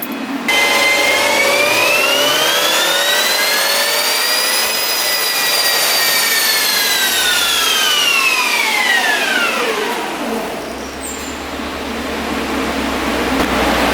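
A 2012 Subaru STI engine revving hard during a dyno pass, a loud, sustained roar whose pitch climbs steadily, holds, then falls off near the end.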